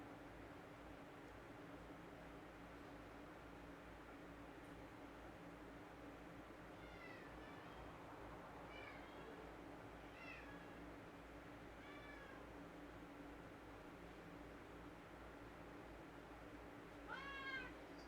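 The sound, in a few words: cat meowing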